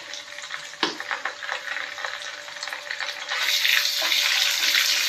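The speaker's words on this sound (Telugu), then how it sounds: "పచ్చి వాసన పోయే వరకు వేయించుకోవాలి, ఆయిల్లో ఫ్రై చేసుకోవాలి." Ginger garlic paste frying in hot oil for a Guntur-style prawn pickle, a steady sizzle with occasional stirring clatter that swells louder and brighter partway through.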